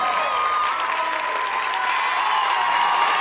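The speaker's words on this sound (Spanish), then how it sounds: "¡Aplaudan, aplaudan!" Steady crowd applause with scattered cheering, dense and fairly loud, continuing throughout without a break.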